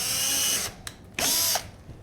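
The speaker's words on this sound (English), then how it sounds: "So I'm just going to go along each one and pre-drill for its location." A power drill pre-drills holes in boards while a home pottery studio is set up, giving two short close whirring bursts with a brief gap between them.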